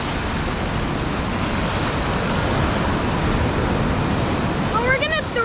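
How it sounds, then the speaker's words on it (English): Ocean waves breaking at a beach, a loud continuous wash of surf filling the whole stretch with no pause, and a brief high whistling or chirping sound near the end. "There's a lot of waves today, huh?"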